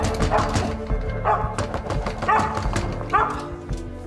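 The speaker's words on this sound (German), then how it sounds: "Was macht denn der Hund alleine draußen?" A dog alone outside barks in repeated short woofs at a steady pace, moderately near, over a continuous background of music and ambient noise in a dramatic scene.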